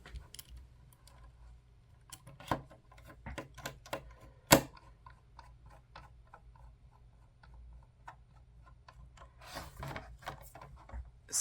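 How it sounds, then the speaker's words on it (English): Small screws being driven back into the shell of a Wo-We mini PC, a faint sequence of close, sharp clicks and light scrapes at irregular intervals against a quiet background. "now I'm going to put the screws back in"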